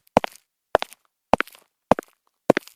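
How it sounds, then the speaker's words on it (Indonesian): Five evenly spaced footsteps land close and crisp, each a hard heel strike followed by a scuffing echo, in a steady slow walking rhythm against otherwise total silence. "Suara langkah kaki terdengar dari belakang mereka."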